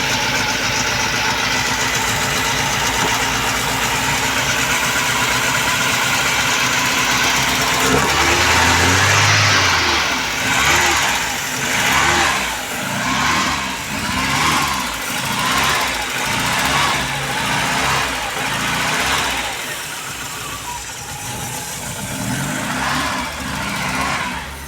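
VW Polo Classic engine with an over-fuelling fault, idling roughly and then revving in a series of rising and falling surges, loud and close with a pulsing, uneven rhythm.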